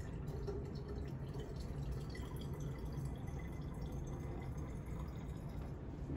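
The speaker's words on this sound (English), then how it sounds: "Just going to add some water over the top, leaving a little space between the water line and the container." Water poured into a container for a homemade lava lamp, a continuous close trickling and dripping fill that holds steady throughout, without speech.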